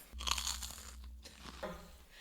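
Crispy churros being bitten and chewed up close, a loud burst of crunching followed by a few softer crunches.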